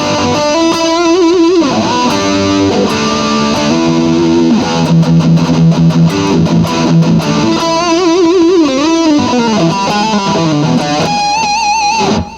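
A high-gain electric guitar through a darker-toned pickup plays loud distorted riffs and sustained bent lead notes, with no talk.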